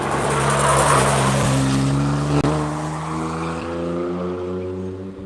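Race cars roar past on a track, engines loud and close, then the pitch drops and the sound fades as they pull away, with a brief sharp click partway through.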